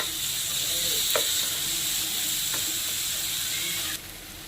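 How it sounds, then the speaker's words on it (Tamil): Leftover chicken gravy stirred into noodles in a hot pan gives a steady close sizzle and hiss, with a couple of brief utensil scrapes, before the sizzle drops sharply near the end. "இப்போ இது கூடவே எடுத்து வச்சிருக்கிற சிக்கன் கிரேவி ஆட் பண்ணிடலாம். நல்லா மிக்ஸ் பண்ணி விடலாம்"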